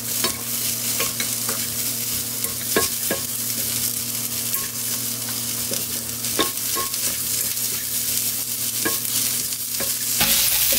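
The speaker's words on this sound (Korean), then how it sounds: "2분 정도만 볶아주고요. 그리고 이제 양배추 넣을게요." Seasoned dried squid strips and cabbage stir-fried in a pan, a steady close sizzle with repeated scraping and clacking of the spatula against the pan throughout, no voices.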